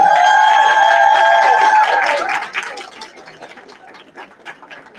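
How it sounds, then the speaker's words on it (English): Applause for the Bessie Coleman Middle School band at a Cedar Hill ISD board workshop and spring student recognition, opening with sustained tones before dense, steady clapping swells in and then fades. "let's keep the applause going as we welcome the band from Bessie Coleman Middle School"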